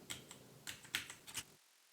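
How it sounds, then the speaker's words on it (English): Keys tapped on a computer keyboard to enter a verification code, a handful of quick, faint clicks in an uneven rhythm, then quiet. "So I'll type that in now."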